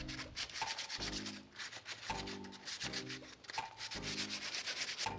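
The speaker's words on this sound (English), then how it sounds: "it doesn't have to be a thorough sanding." Hand sanding a reed seat before painting: rhythmic back-and-forth scratchy rubbing strokes, steady and close, repeating about once per second with no voices.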